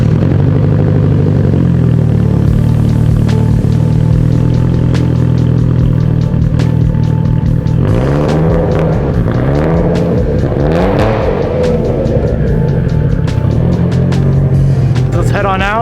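A stock-motor Mitsubishi Evo idles close by with a loud steady engine drone and a few light revs, with someone talking over it for much of the time.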